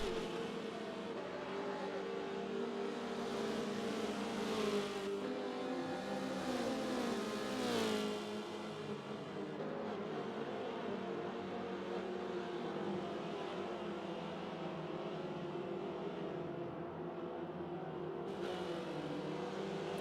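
Race cars in a Forza racing game replay roar past in a tight pack, engines revving and swelling as they pass, then settling into a steady engine drone, with no talk.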